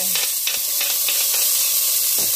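Onions frying in a pan with a steady bright sizzle and hiss throughout, broken by small stirring clicks, for a Filipino milkfish sinigang with miso, close and fairly loud with no talk.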